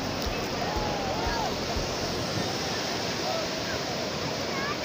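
Continuous roar of ocean surf rolling onto Digha beach, a dense, loud wash of breaking waves mixed with wind buffeting the microphone, with faint voices beneath.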